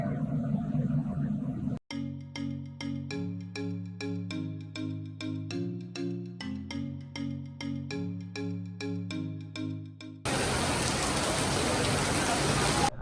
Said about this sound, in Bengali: আর এখন অনেক বৃষ্টি হচ্ছে